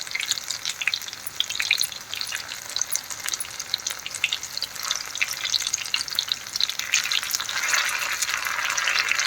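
Zucchini frying in a pan with a steady, bright sizzle throughout, crackling a little more densely toward the end, with no voices.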